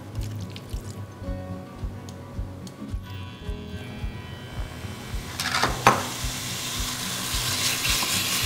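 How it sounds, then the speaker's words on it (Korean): Seasoned beef stir-frying in sesame oil in a pot, a soft crackling sizzle with scattered ticks and clinks of a utensil against the pot, building to a louder, denser sizzle toward the end. "냄비에다 참기름 두르고요. 그 다음에 양념해 놓은 고기를 넣고 볶을 거예요."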